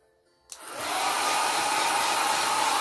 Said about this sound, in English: dry a little bit.